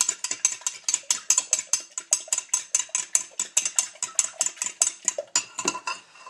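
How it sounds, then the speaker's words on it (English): Eggs whisked briskly in a bowl for breakfast tacos, a fork clicking rapidly and steadily against the sides in a fast even rhythm, close and clear, with no talking. "In my eggs, I'm going to mix those up real quick"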